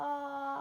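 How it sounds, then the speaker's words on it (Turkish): A rooster crowing sound set as a phone alarm, one sustained tonal call that plays alone without talk. "Mis gibi horoz sesi koydum alarmı."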